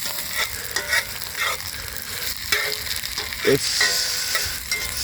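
Onions fry and sizzle in a pan at an outdoor cookout, a bright hiss broken by scraping stirs and clunks from a utensil, with a brief spoken word.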